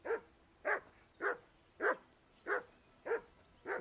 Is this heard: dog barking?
yes